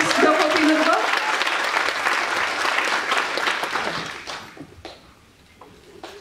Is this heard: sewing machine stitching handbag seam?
no